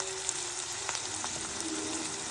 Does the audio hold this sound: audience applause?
no